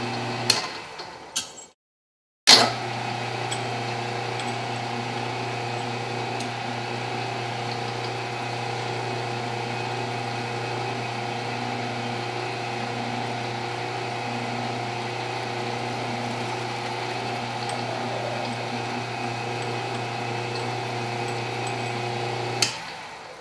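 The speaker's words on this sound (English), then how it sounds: "and then we'll drill it out and then bore it" A lathe drilling out a metal intercooler pipe part gives a steady mechanical hum and whine, running continuously with a short break near the start and a few faint ticks.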